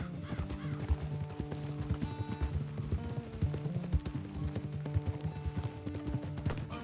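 Horse hooves in Red Dead Redemption 2, a steady close clip-clop rhythm of repeated hoof strikes over musical tones, with occasional whinnies.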